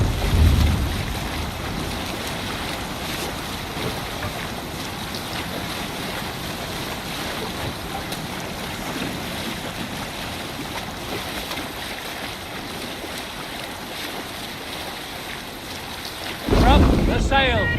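A sailing ship at sea in Assassin's Creed Valhalla, with steady rushing wind and surging waves that roar continuously, then a louder swell near the end.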